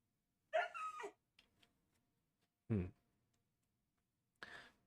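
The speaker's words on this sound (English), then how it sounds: "They must have given dogs new sounds because I'll be honest, it sounds different than the dogs I remember." A video game dog makes a few short, separate barks and yips with quiet gaps between them, clear and close against near silence.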